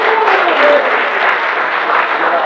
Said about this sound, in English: We just want to give you some applause.